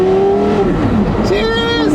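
A hypercar engine sits in neutral and revs hard, the pitch climbing, dipping and rising again, loud and close, with people talking over it.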